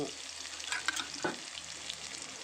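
Garlic fries in a pan before shrimp goes in, with a steady bright sizzle and a few soft clacks of stirring throughout, close and continuous with no talk.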